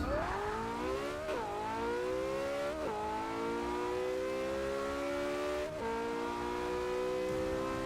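Porsche 918, an all-wheel-drive hypercar of about 900 horsepower, launching hard in the Forza 6 racing game, its engine note climbing through several rapid upshifts with brief dips at each gear change, loud and continuous with no talk.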